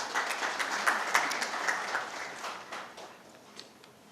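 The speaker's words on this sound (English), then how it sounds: "Can we have a round of applause," Audience applause at a waste management conference, a dense wash of many hands clapping that holds steady before thinning and fading out toward the end, with no talk over it.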